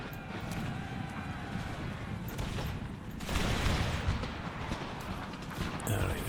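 A musket volley in an Empire: Total War battle: ragged, crackling gunfire rolls out beneath ambient battlefield noise, swelling into a denser burst after about three seconds.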